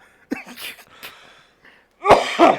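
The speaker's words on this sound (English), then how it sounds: "Recovering from a cough." A person coughs and clears the throat while recovering from a cough, a couple of short rough bursts near the mic, then a louder harsher cough pair after a brief pause.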